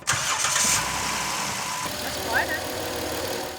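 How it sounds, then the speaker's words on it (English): A car engine cranks and catches after a new alternator, belt and adjusted bracket were fitted, then settles into a steady mid-pitched idle with a brief higher squeak near the end; a person speaks over it at the start. "Fire it up, let's see if we don't have a squeal anymore."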